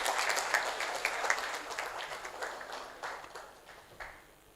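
An audience at a valedictory ceremony gives a round of applause, many hands clapping in a steady patter that starts fairly strong and gradually thins and fades toward the end.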